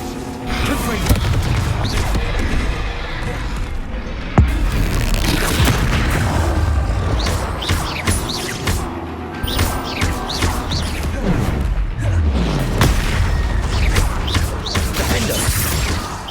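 Confringo fire spells exploding in Hogwarts Legacy, a dense run of loud booms and crashes amid spell-casting battle effects, one sharp blast standing out near the start, with constant combat clatter throughout.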